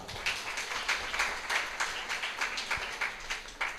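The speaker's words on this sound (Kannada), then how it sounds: "ನಿಮಗೆ ಎಲ್ಲರ ಪರವಾಗಿ ಶುಭ ಹಾರೈಕೆಯೊಂದಿಗೆ ಒಂದು ದೊಡ್ಡ ಚಪ್ಪಾಳೆ." An audience claps together in sustained applause at a Kannada cultural event, with rhythmic, moderately distant clapping that continues without a break.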